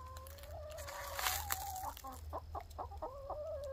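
Hens clucking and calling inside their new chicken shack, a steady stream of short, varied clucks and squawks close by over a low background hum, with no talk.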